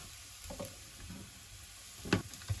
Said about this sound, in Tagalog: sauteing first the garlic. Wow, it's sizzling here